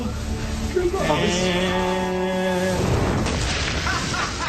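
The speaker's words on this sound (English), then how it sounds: "That was the best explosion we've ever done." A barrel filled with gunpowder blows up outdoors at the end of a burning gunpowder trail, a deep broadband blast that fills the air. A sustained tonal sound comes just before it.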